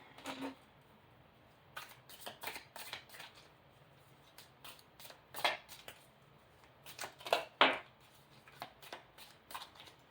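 Tarot cards are shuffled in a series of quick, crisp riffling bursts, some louder than others, with short gaps in between.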